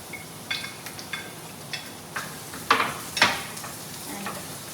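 Carrots and garlic stir-frying in a pan for a chicken vegetable dish, a soft low sizzle punctuated by several sharp scrapes and clinks of a spatula, close but fairly quiet.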